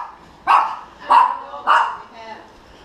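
Three loud close dog barks come evenly spaced about half a second apart, followed by a softer fourth yelp.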